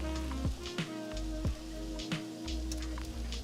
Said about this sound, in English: What I wanna do is I just wanna flip the steak over,